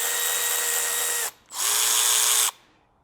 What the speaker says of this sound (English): Now this is a high speed ratchet.